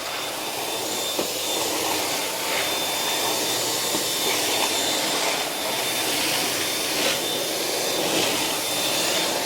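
A Miele Duoflex HX1 CarCare stick vacuum cleaner runs steadily indoors with a loud, even motor whine and airflow roar, and a thin high tone holds throughout with no voices.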